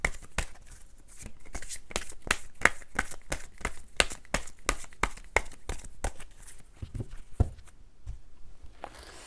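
Tarot cards shuffled and drawn at close range, a quick run of crisp riffling flicks and slaps that slows to a few scattered taps toward the end, with no talk.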